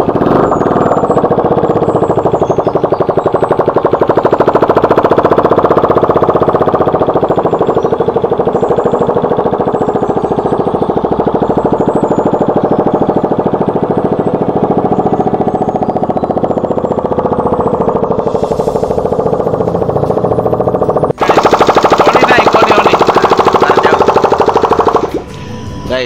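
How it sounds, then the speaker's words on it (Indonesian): Motorcycle engine running rough with no exhaust fitted, a loud, harsh, rapid staccato rattle held steadily at close range, its tone shifting and then cutting off near the end. "Jadi ini belum pasang knalpot, jadi ada bunyinya agak sedikit kasar."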